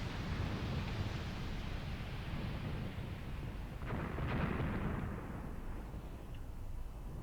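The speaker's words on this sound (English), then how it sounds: "Mortars are working this whole area over." Mortar fire in the war game Graviteam Tactics, in a battle around a destroyed hamlet at Vinyagolovo: a faint, continuous rolling rumble with a heavier distant boom swelling midway, and no voices.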